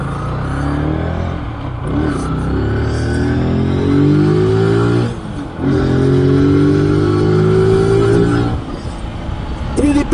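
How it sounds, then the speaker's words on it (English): A Zontes G1 125cc scrambler motorcycle engine revs up twice in close succession, its rising tone climbing steadily, dropping briefly, then climbing again, loud and close throughout. "Pretty peppy engine."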